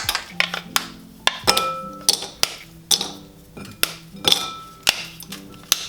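Pieces of chopped bittersweet chocolate dropping onto a hard kitchen surface, giving a steady series of sharp, close clicks and knocks spaced through the clip, with no talking.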